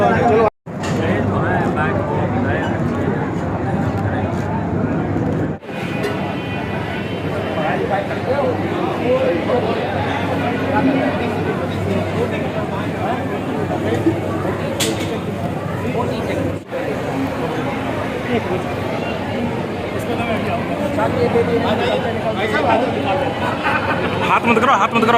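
A dense crowd murmurs continuously at a large religious satsang gathering, with a steady babble of many voices and louder nearby speech on top throughout.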